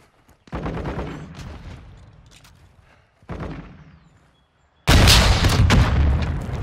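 A gold rocket launcher fires in a hardcore free-for-all match of Call of Duty: Modern Warfare II. Three heavy, booming blasts come a few seconds apart, each trailing off, and the last is the loudest and closest.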